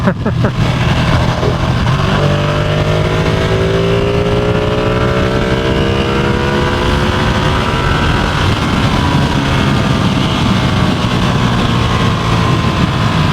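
A Ducati Streetfighter V2 motorcycle engine revs up while riding, loud and close, pitch climbing through the gears over steady wind rush.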